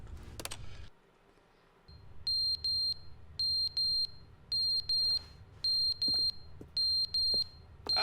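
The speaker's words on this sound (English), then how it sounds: "It's beeping." Shrill electronic beeping in the video game LET ME OUT!, sounding in repeated paired bursts with steady rhythm, loud and close, following a brief thud and a short quiet gap.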